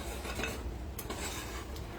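Sugar for Grinch popcorn is stirred in a pan as it comes to a boil, a soft continuous scraping with a few light clinks of the spoon against the pan, near and fairly quiet.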